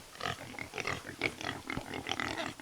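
Pigs on a Florida permaculture farm grunt and snuffle continuously up close, a busy overlapping chorus of short oinks and snorts.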